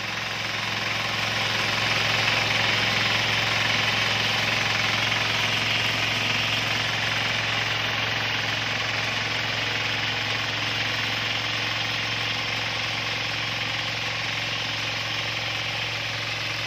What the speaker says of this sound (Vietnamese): Hoạt động như con máy phay bình thường.